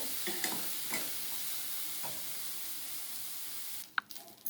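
Lote fish stirred and dry-fried in a pan, giving a steady dry sizzle with scraping stir strokes, then a sharp clatter near the end as the sizzling drops away.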